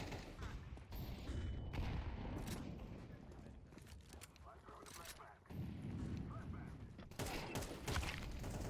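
Rapid gunfire and explosive booms from an online shooter match keep crackling in bursts throughout, with a player's voice talking over the fighting.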